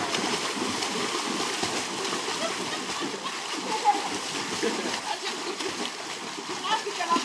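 Water splashes and sloshes unevenly in an outdoor summer pool, with several irregular splatters as it is tipped out and voices talking around it.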